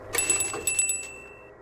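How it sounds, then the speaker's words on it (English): A small bell chimes in the video game Pathologic 3, a quick run of bright, ringing strikes followed by a lingering metallic tone that slowly fades over a quiet low background. "Ring the bell."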